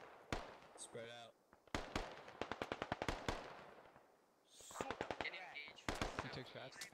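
Long-range automatic gunfire in the military shooter Squad, rapid bursts of sharp cracks in several strings with pauses between, mixed with players talking.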